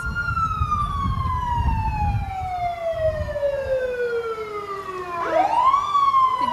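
A St. Croix EMS ambulance siren wails loud and close at the Booster Day Parade in Hudson, a steady falling tone that sweeps back up, with engine rumble and crowd noise below it.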